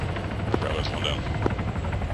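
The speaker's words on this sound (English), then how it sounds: "Helicopter southeast" Military video game helicopter flying with a steady low rotor drone throughout, under a murmur of radio chatter and squad voices.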